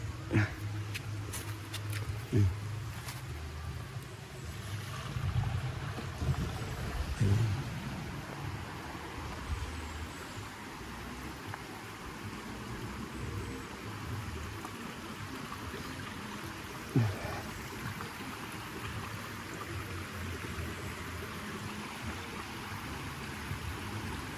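Water drains from an opened drain in a steady trickling rush, with a few soft knocks and bumps near the start and one sharp tap partway through.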